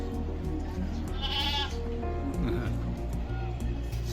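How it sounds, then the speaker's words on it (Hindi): Small goats bleat repeatedly in a village in Nandgaon near Barsana, with several short calls near and at mid distance, a steady low hum underneath and scattered background voices. "देखो बकरियों की आवाज़ आ रही है, कितनी प्यारी छोटी छोटी बकरियाँ हैं।"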